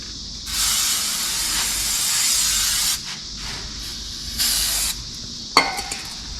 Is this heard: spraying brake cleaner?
yes